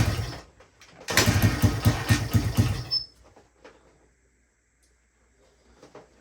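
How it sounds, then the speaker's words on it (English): A 1985 Honda XR100 motorcycle engine sputters and runs unevenly for a couple of seconds, then dies away to near silence with faint knocks. "almost wants to idle on its own"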